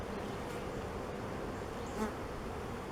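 A dense, steady hum of many honey bees buzzing close by at beehives, continuous and even, with one individual bee briefly passing louder.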